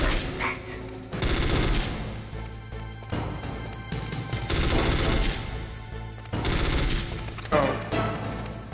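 Bursts of FAMAS rifle fire in the video game Metal Gear Solid, rapid automatic volleys that come in several separate spells with short gaps, alongside game impact and clash sounds.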